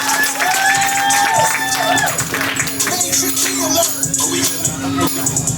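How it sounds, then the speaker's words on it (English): Loud crowd at a poetry event clapping and cheering as a poet walks to the stage, with steady applause, shouts and voices mixed in throughout. "Clap it up, clap it up, clap it up all the way to the stage"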